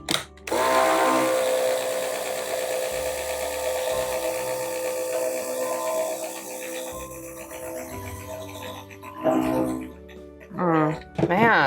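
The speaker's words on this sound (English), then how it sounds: "All right, Kat coming in with the blender." Blender whirring steadily through soap batter as mica is mixed in, a sustained motor drone that runs for several seconds before cutting out, followed by brief bursts of talk.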